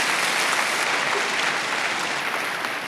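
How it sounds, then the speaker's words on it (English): Audience applause on a talk show, a dense, even wash of clapping from a crowd that holds steady for several seconds without voices. "Give him a round of applause."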